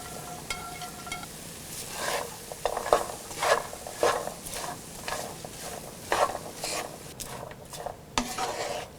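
Cut asparagus is tossed with masala in a pan for a stir fry, giving a low sizzle beneath a series of rhythmic scraping and rasping spatula strokes, close up with no talking.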